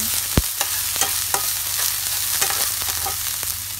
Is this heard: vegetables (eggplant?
yes